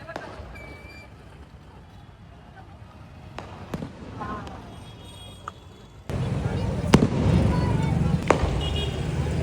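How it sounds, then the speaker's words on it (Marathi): Firecrackers going off at a Shivjayanti festival procession in Satara, several sharp pops and bangs at mid distance over crowd noise, with a louder burst joining partway through while people talk. "ते आता मोठा फटाका आला."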